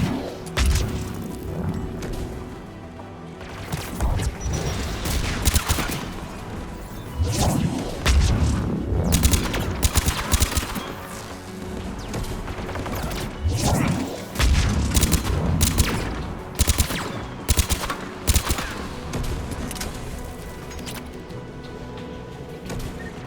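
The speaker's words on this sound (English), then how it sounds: "There! The guns protecting the tower!" Mounted guns guarding a tower in the Mass Effect video game hammer away in heavy bursts of crashing blasts and booming impacts, repeated irregularly over a loud battle with whooshes between volleys.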